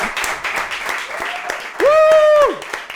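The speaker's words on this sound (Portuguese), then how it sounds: "Força de aplauso." A small audience claps for a talk-show episode, brisk near applause that builds, then a loud voice cuts in with a drawn-out shout before the clapping trails on.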